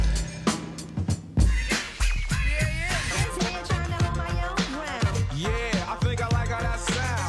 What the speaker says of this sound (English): It's rap music, and it sounds like this.